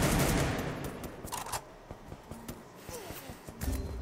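Rapid bursts of gunfire crackle through a battle royale video game match, volleys and single shots repeating irregularly at mid distance over a steady background of game ambience, with no talking.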